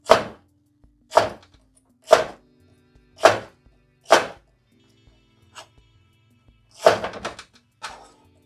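A knife chops watermelon rind into small pieces on a cutting board, five sharp, evenly spaced thunks followed by a few lighter taps and a quick cluster of cuts, close and clear with no talking.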